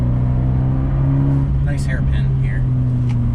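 A 2020 Fiat 124 Spider Abarth's engine pulls hard through a run of corners, its steady loud drone rising and falling with throttle and shifts, heard from inside the car with a brief spoken comment over it.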